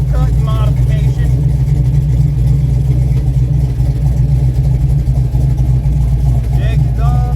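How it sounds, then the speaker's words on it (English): Steady low rumble of a 1971 Chevrolet El Camino with a Jegs exhaust and lowered suspension, idling loud and close throughout, with people talking over it. "How about that jegs exhaust?"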